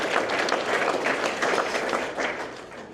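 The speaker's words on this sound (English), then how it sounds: "You can clap for yourselves too" Audience clapping fills a graduation ceremony hall, a dense, steady wash of many hands applauding together at close-to-moderate distance, with faint voices mixed in.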